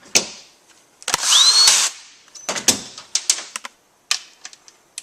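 A power drill or driver runs a bolt back into a Toyota Tundra AB60 transmission valve body, one loud whirring burst of about a second, surrounded by sharp metallic clicks and taps of tools nearby.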